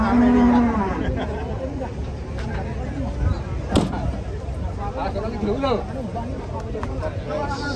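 Large sacrificial cattle being unloaded from a truck low and moo amid clattering and shuffling, with several people talking and calling out over the commotion.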